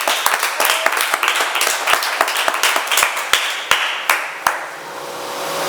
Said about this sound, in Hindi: एक बार मैं ऑडियंस से चाहूंगा कि शिवानी ठाकुर के लिए एक बार जोरदार तालियां हो जाएं